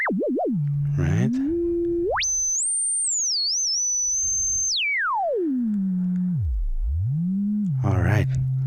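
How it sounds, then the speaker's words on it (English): A T-Zed oscillator synth module plays a pure sine tone that sweeps up and down in pitch, rising to a high whistle and dropping to a low hum, with brief talk under it. "Now the shape, it starts as a sine wave like that."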